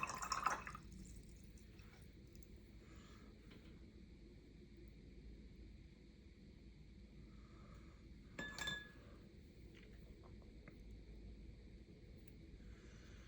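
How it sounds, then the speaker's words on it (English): A watercolor paintbrush is rinsed in a glass water jar. There is a sharp clink near the start and another clinking splash later, with faint drips over near-silence. "just add a little more water to my brush"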